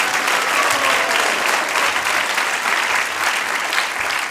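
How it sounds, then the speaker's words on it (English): A live crowd at a Gita Jayanti festival gathering at Bhaktivedanta Manor breaks into sustained, loud cheering and applause that holds at a steady, dense level throughout. "a big loud cheer and thank you"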